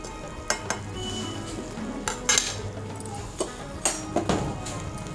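Spoon stirring chicken cooking in a pot for biryani, a few sharp metallic clinks and scrapes against the pan over a low steady cooking hiss, close and moderately quiet.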